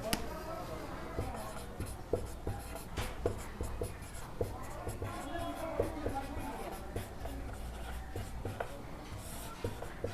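Pen or marker writing out an algebra answer, steady scratchy strokes with short taps across the whole stretch, close and fairly loud under a low background hum, no talking.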